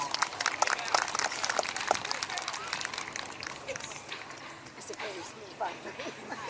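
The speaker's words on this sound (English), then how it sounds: "give them a round of applause" Outdoor crowd at a historical settlement re-enactment applauding, a dense patter of scattered claps that fades a little midway, with some voices mixed in.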